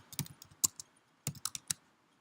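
Keys on a computer keyboard clack in two short bursts of quick, close, crisp taps separated by a brief pause.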